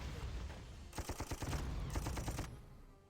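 Tank cannon fire in the wartime strategy game Panzer Corps: a rapid burst of sharp, loud reports in two clusters over a steady low rumble, with no talking.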